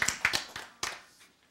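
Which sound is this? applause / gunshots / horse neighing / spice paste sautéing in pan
applause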